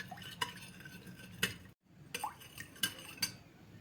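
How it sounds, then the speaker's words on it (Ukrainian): Salt being stirred into a meat marinade in a bowl, heard as a run of sharp utensil clinks and scrapes in an irregular rhythm, close by, with a brief silent gap midway and no voices. "Розмішую, щоб і сіль розчинилась."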